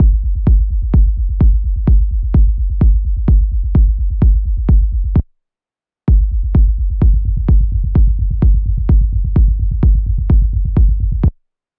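Low end of a techno track, punchy kicks with tight bass repeating in a steady driving pulse, loud and dry, with a brief gap of silence midway before the pattern resumes.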